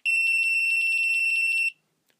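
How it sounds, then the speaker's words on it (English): A GoPro Hero 3 in burst mode firing 30 shots in one second, heard as a loud, steady, high-pitched electronic beeping tone that runs continuously for about a second and a half, then stops abruptly. "That was the sound of 30 pictures being taken in 1 second."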